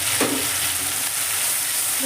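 A paste of cashew and poppy seed hisses and sizzles in hot oil, giving a steady, close frying crackle with a soft scrape near the start, and nobody speaks.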